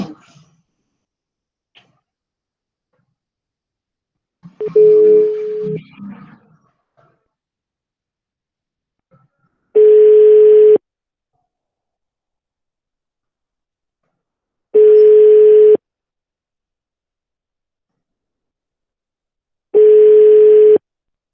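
Three identical steady tone bursts of about a second each, spaced roughly five seconds apart, ring on an unanswered telephone call, following a short burst of mixed sound.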